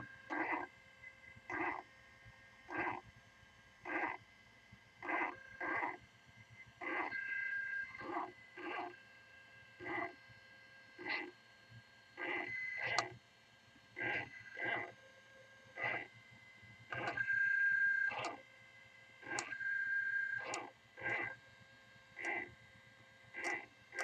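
A Ciclop 3D scanner runs its laser triangulation calibration, its motor giving short, regular whirring pulses with a thin tonal whine, repeating steadily for about twenty seconds.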